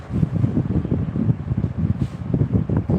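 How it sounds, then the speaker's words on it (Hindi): An electric fan running on its lowest speed setting gives a steady, close, breathy whoosh with a soft low rumble that wavers slightly throughout, with no other sounds. "आरती जी, अपना पंखा एक नंबर पर लगा चलाइए, एक नंबर पर हो गया है"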